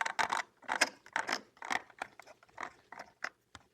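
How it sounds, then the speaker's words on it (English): A sewing machine's rotary hand wheel is turned by hand to lift the needle arm, giving a series of close, moderately loud mechanical clicks and ratcheting whirs in irregular bursts. "raise the needle arm to the highest position by turning rotary wheel"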